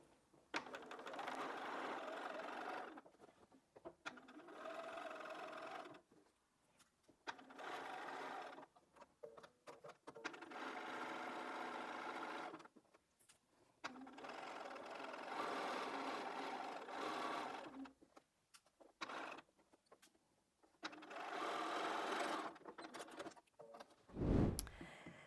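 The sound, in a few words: sewing machine stitching fabric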